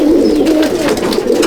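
Pigeons in a pigeon loft in Akra, Kolkata, giving a steady close, low cooing that fills the moment with no voices over it.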